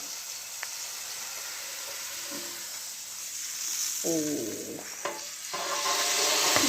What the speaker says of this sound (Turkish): şu kadar yağda kızartıyorum. Çok az bir yağ.